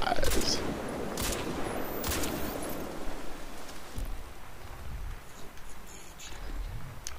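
Rapid gunfire in the shooter game Crysis 2, a dense, steady crackle of shots with a few louder bursts early on, continuous throughout the short stretch.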